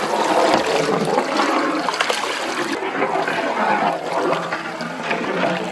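Boiled water gushes from a large vessel into a big village-style mutton biryani pot, a loud, close, continuous pouring and splashing with no talk over it.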